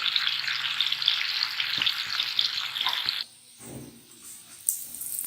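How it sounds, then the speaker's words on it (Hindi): Chicken toast frying in a pan over a medium flame gives a steady, close hiss and crackle for about three seconds, then drops to a faint simmer before a brief sharp sizzle flares again. "इसको मीडियम फ्लेम पर हमने अच्छी तरह से फ्राई करना है, ताकि ये थोड़ा सा ब्राउन हो जाए"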